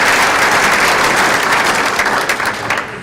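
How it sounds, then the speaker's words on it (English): An audience gives a round of applause for vendors and sponsors at an event, many people clapping loudly and steadily, then tapering off slightly at the end. "how about a round of applause for our vendors and sponsors"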